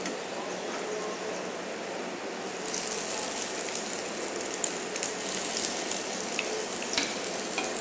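Egg kabiraji cutlet frying in hot oil, a steady dense sizzle that brightens and grows slightly louder partway through, with crackling pops near and continuous, no talk.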